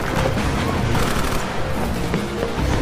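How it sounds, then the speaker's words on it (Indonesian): Burst of gunfire in a Japanese action film, dense crackling shots running continuously under a loud, busy mix with no clear gaps. "dilanjutkan dengan berondongan tembakan kedua yang membuat suasana di tempat itu berubah"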